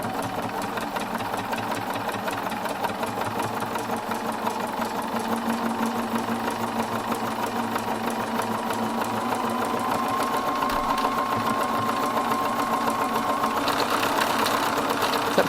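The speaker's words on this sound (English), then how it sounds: "you can tap the foot pedal. It'll lower the foot and start stitching" A Bernina 770QE Plus sewing machine stitches steadily, its even mechanical whir and rapid needle rhythm running close and continuous, with a slight speed increase toward the end and no talk.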